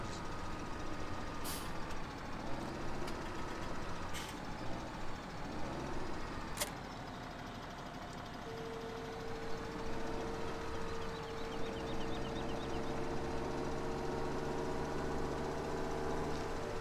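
Valtra tractor engine in Farming Simulator 17, a steady heavy diesel drone with a rising whine and a sustained tone joining partway, loud and continuous with no talk.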